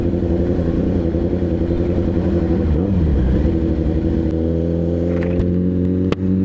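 A 1000cc liter bike with a quickshifter auto blipper revs at night, a loud, close engine drone that rises and falls through quick gear changes, with sharp clicks near the end.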